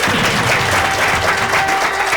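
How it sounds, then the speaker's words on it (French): Audience applause in an indoor gathering, a steady dense clapping from a crowd that carries on evenly throughout without pause or talk over it. "Applaudissez pour Mr. Angelo."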